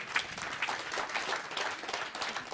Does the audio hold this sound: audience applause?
yes